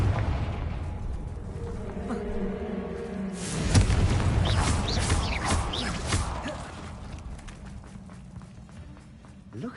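Blasting spell explosions in the video game Hogwarts Legacy, a rumbling boom that swells midway with crackling bursts and debris over a low game ambience, trailing off into quieter background sound.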